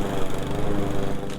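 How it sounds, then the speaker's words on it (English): A petrol lawn mower with its deck dropped to the lowest setting, scalping a lawn in spring and collecting the clippings, gives a steady, close engine drone with a rough, pulsing texture throughout. "mow your lawn and collect all the clippings"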